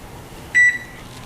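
A single steady electronic beep from a kitchen oven being set to preheat, one short tone lasting about a fifth of a second, close and clear against a quiet room.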